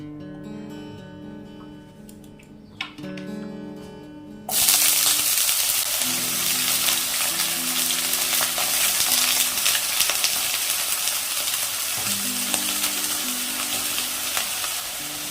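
Eggplant slices fry in a little mustard oil in a wok, starting with a few soft clinks and then breaking into a loud, steady broadband sizzle. A low tonal hum runs underneath, and no one speaks.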